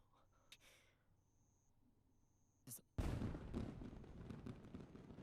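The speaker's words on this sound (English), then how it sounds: "Fireworks jump scare to fucking nowhere." Fireworks go off in an anime episode of Days With My Stepsister: after a quiet stretch, a sudden loud blast erupts and keeps crackling and rumbling close by.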